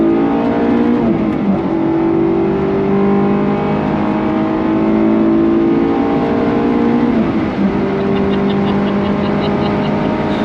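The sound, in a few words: sports car engine revving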